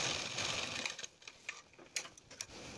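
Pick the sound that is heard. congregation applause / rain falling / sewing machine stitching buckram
sewing machine stitching buckram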